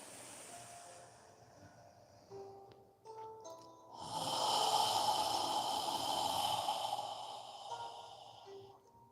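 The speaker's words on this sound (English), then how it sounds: "We're breathing through our nose now." Nasal breathing during a yoga session: a quiet snort and soft breaths at first, then one long, loud breath drawn through the nose that lasts several seconds, close to the microphone.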